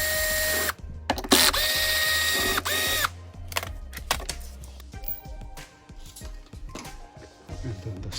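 A power drill backs screws out of the casing of an EcorPro EPD170LGR dehumidifier, with loud whirring bursts first and then quieter rattling and clicking of screws and parts.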